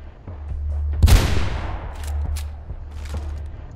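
Gunfire aimed at a convoy in the video game Mirror's Edge: a loud close burst of shots with a booming tail, then a few fainter scattered shots, no talk.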